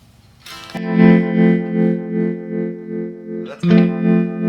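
Electric guitar played through a Line 6 HX Effects 60s Bias Tremolo, sustained chords pulsing in a steady wavering rhythm, loud and close, with a fresh strum restarting near the end.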